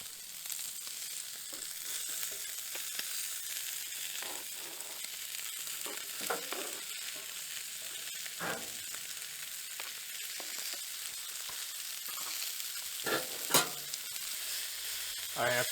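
Food frying in a lightly oiled pan on an old Coleman camp stove outdoors in a forest: a quiet, continuous sizzle with occasional scrapes and clinks of utensils, close by, no talking.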